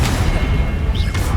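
A spell cast in Hogwarts Legacy lands as a loud, dense booming burst under continuous in-game battle noise, with a brief rising whistle-like tone near the end of the short moment.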